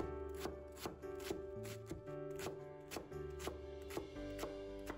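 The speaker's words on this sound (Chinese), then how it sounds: "把包菜切成丝" Knife chopping cabbage into shreds on a cutting board during egg fried rice prep, a steady rhythm of about ten sharp close chops over a low background hum.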